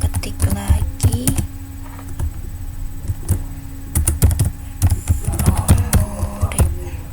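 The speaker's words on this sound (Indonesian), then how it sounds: "Nah habis itu kita ketik lagi" Keys clatter on a computer keyboard in irregular bursts and short runs of taps, close and fairly loud, with brief pauses between flurries and a faint low hum underneath.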